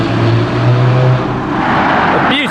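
An Aston Martin DBS Superleggera with a 725-horsepower 5.2-litre twin-turbo V12 cruises past on a London street, a loud steady engine drone that fades as it moves away.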